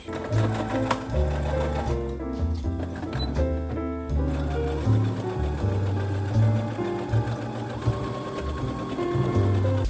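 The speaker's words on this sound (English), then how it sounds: "I'm gonna start joining the shoulders as well as the side seams before I can sew them together" A sewing machine stitches the shoulder and side seams of a checked holiday shift dress, its fast rhythmic needle hammering running close and loud nearly throughout, with a short pause midway.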